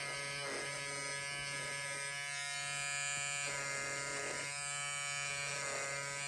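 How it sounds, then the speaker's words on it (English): An electric Peggy Stitch Eraser buzzes steadily while cutting out bobbin threads from embroidery, a close, continuous motor hum with slight changes in pitch as it presses into the fabric. "I use my Peggy Stitch Eraser"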